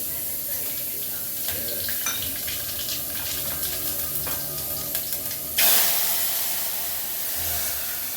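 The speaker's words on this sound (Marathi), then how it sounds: "आता फोडणी घालू" Spices for a tempering hit hot oil for a besan and yogurt curry, a sudden loud sizzle flaring up near the end after quieter kitchen clinks and faint background noise.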